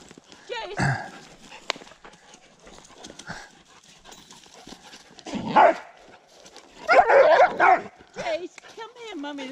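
A dog barks in several loud bursts mixed with people talking nearby.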